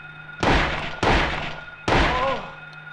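Three heavy gunshots from a handgun in Silent Hill, each a loud, booming thump followed by a short decaying tail, spaced irregularly at roughly half-second to one-second gaps against a faint steady game hum.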